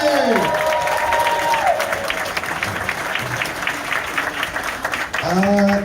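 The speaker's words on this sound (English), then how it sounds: "Big round of applause for Tommy." An outdoor tour group at a Friday the 13th filming location gives a round of applause for a guest named Tommy, a crowd clapping steadily and fairly close, with a sliding whistle-like tone at the start and end.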